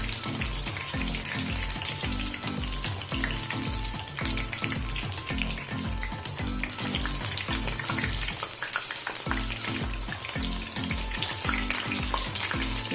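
Breadfruit bajji deep-frying in hot oil produce a loud, continuous bubbling sizzle with dense crackling, steady throughout and heard alone without any talking.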